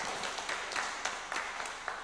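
Audience at a community forum on clean-water shortages in Lumajang applauds, a brief scattered burst of clapping at moderate distance with uneven sharp peaks and no voice over it.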